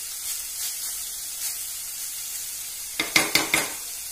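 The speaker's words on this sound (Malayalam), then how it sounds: "കൊഴുവയല്ലാത്തത് കൊണ്ട് ധൈര്യമായിട്ട് ഇളക്കാം" Vegetable thoran fries in a pan with curry leaves, a soft steady sizzle giving way near the end to a quick run of four sharp scrapes and taps as a spoon stirs it.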